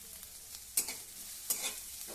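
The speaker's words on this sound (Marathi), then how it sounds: "कांदा चांगला असा भाजून घ्यायचा आहे" Chopped onion fries in a pan over medium heat for egg curry. A soft, steady sizzle is broken by three scraping stirs, with no talk.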